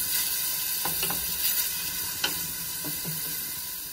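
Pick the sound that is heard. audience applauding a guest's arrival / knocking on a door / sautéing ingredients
sautéing ingredients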